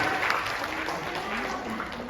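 Audience applause in a hall during a youth voter education seminar, a dense continuous clapping wash heard fairly loud, with some voices mixed in underneath.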